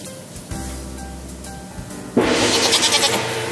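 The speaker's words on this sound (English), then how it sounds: "I don't remember there being a goat under there" A goat bleats loudly and close, a wavering cry that rises abruptly after a few seconds of low mechanical humming.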